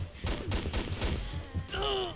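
An X-Shot toy blaster fires a quick string of soft pops in close succession, fairly quiet and near, followed by a brief whirring tone at the end.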